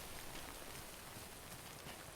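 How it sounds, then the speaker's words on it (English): Steady rainfall in the video game Death Stranding, a constant broadband hiss of drops on surfaces filling the whole stretch at low, even level with no talk. "Probably because it's raining too."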